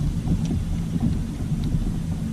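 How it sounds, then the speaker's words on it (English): A thunderstorm rolls near a river during a catfishing trip, with steady rain and low rumbling thunder forming a dense, loud wash of noise that carries no talking. "I've got some storms around me, and I'm hoping they go around me."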